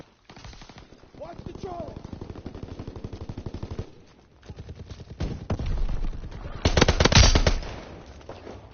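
Bursts of World War II machine-gun fire rattle in rapid runs during Call of Duty WW2 gameplay, loudest near the end, with game voices calling out over the shooting.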